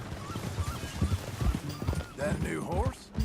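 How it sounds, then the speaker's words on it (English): In the video game Red Dead Redemption 2, horse hooves clip-clop at an easy riding pace, a steady rhythm of close, soft thuds under low ambient game sound. "That a new horse?"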